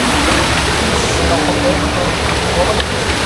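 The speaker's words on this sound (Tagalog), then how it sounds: "nalito kami ngayon sa waterfalls" A waterfall in an outdoor cooking spot roars close by as a dense, steady wash of noise that fills the whole clip. No single sounds stand out from it.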